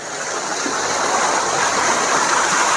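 Water rushes and gushes from a pipe in a steady, loud stream with a constant hissing roar and no pauses.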